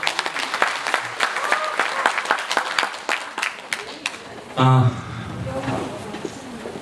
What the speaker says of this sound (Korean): 역사학자 전용 교수님을 큰 박수로 환영해 주시기 바랍니다.